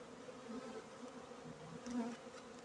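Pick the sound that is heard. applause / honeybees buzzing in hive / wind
honeybees buzzing in hive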